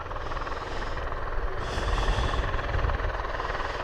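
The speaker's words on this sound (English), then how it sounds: "at last that second Osprey is on the move." A V-22 Osprey tiltrotor taxiing at RAF Mildenhall, a dense, loud, continuous rotor and engine roar heard from a distance, swelling slightly toward the middle with no voices.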